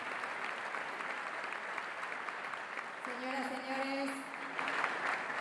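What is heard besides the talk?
audience applause for Milei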